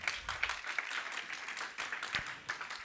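A church congregation claps together in a brief round of applause, moderately distant and fairly quiet, without speech over it.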